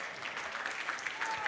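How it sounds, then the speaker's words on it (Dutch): Audience applause for the jury members at the Liet 2013 song contest, a steady, dense clatter of many hands clapping through the whole stretch, moderately loud in a hall. "En een applaus voor de juryleden."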